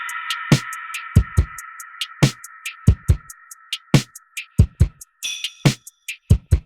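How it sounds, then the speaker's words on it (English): A crisp electronic drum pattern from the J-Did kit in the Satin Looks expansion plays alone, with punchy kicks, snappy hits and quick hi-hat ticks over a soft sustained tonal pad, in a steady looping groove. "So I started this beat with the J-Did kit, using pretty much the third pattern with a few modifications."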